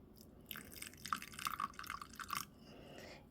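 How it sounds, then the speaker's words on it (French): A little lukewarm water trickles onto crumbled fresh yeast in a small bowl, a faint close burst of splashing and dripping lasting about two seconds before quieting. "Je rajoute un petit peu d'eau tiède."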